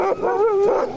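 Sled dogs on a racing team bark and whine close by, a continuous excited chorus of rising and falling yips with no talk over it.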